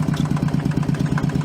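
Small one-cylinder engine of a Fendt Fix 1 tractor idling with a steady, even thumping pulse, loud and close, alone without voices.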